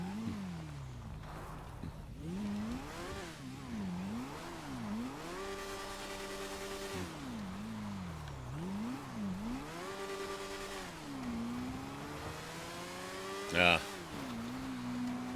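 A one-seater vehicle in a roleplay driving game revs steadily, its engine pitch rising and falling in repeated waves, with a sharp clunk near the end.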